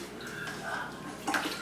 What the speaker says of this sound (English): So this is cold water in here and I'm going to transfer it into the cold water.